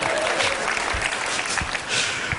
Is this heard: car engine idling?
no